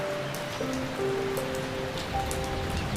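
Steady rain falls over a poor family's home in a Hindi cartoon, a continuous patter and hiss under soft tonal music, with no talking.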